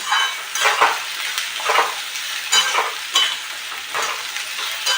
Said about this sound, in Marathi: मस्त त्याची फ्राय होऊ देणार भेंडी एकत्र फ्राय होते